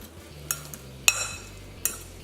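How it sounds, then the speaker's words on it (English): A utensil mixes marinade ingredients, including salt, in a bowl, giving three sharp separate clinks against the bowl with quiet scraping between them, close and alone. "Mix that together."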